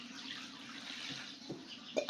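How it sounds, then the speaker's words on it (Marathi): Water splashing and trickling steadily as it is poured, fairly close, with a few brief clinks and a louder splash near the end. "आता पाणी वतून"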